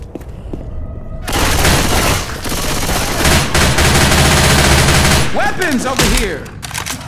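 Left 4 Dead gunfire: loud, sustained automatic bursts that fill several seconds in a crowded game battle, with a few calls from characters mixed in.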